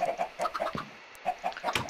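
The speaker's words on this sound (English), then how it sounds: "we've got a buttload of chickens in here." Chickens cluck in a Minecraft farm, a quick run of short, clipped clucks in bursts with a brief pause midway, close and moderately loud with no talking.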